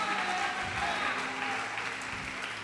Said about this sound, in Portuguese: você precisa aceitar o governo pode aplaudir, glorificar